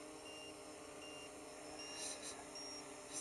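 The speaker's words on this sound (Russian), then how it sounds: "Пищит, что заряд слаб." A quadcopter drone, a Bayangtoys X16 frame fitted with a Matek F405SE flight controller, sounds its low-battery warning in flight: faint, repeated high electronic beeps over a steady background hum.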